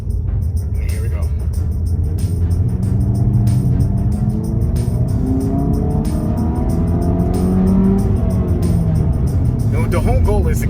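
Dodge Dart GT, fitted with a replaced radiator hose, driving at 15 mph in second gear, its engine a steady loud low drone with some rising whine and road noise, under someone talking throughout.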